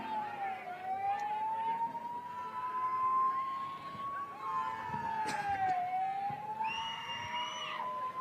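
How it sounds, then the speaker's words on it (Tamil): An ambulance siren wails on a road, its rising and falling tone continuous and fairly close, sounding steadily throughout. "ஆம்புலன்ஸ் வருது, வழி விடுங்கப்பா."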